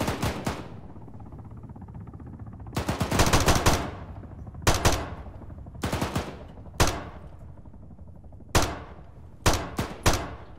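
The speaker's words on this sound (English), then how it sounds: "it must be shooting at the Reaper. It's been doing that the whole time" Gunfire from a vehicle in the military game ArmA, heard as loud bursts of automatic fire with a longer burst early and then shorter, spaced volleys, each trailing off with echo.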